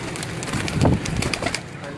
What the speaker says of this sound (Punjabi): ਇਹ ਟੈਡੀ ਕਬੂਤਰ ਹੈ